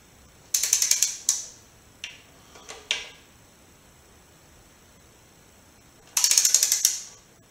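A ratchet wrench tightens oil pan bolts on a Mazdaspeed MX-5, giving quick bursts of rapid clicking, several short pulls with pauses between, then a final run of clicks, close and clear in a quiet garage.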